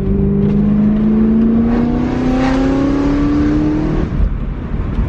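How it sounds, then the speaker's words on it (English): A BMW M3 E92 accelerates hard with a loud exhaust, its engine note climbing steadily through the revs for about four seconds, then easing off, close and continuous with no talking. "Like, I like the sound and I like to hear it, so I'll get on it."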